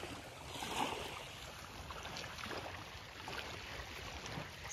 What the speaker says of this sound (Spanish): Está el mar súper tranquilo ahora.